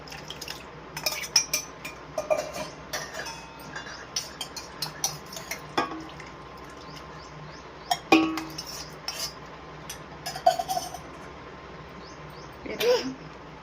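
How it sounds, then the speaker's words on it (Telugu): Raw chicken being mixed with fried onion, biryani masala and curd in a metal vessel, a run of scattered clinks, scrapes and wet stirring sounds close by, with one louder clatter near the end. "చికెన్కి అన్నీ కలుపుతున్నాము చూడండి"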